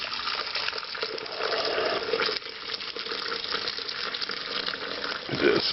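Lamb broth for Georgian kharcho soup is poured from batches into a fat separator, a steady, close liquid pour with splashing and gurgling that swells near the end.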